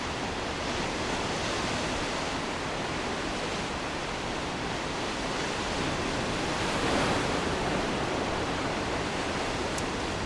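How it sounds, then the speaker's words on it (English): Sea waves wash against the Fanad Peninsula coast in Donegal, Ireland, a loud, continuous broadband roar of surf with no distinct breaks, wind mixed in, heard close and unbroken throughout. "I spent the last 20 minutes doing nothing but listening to the sea, watching the waves, hypnotic."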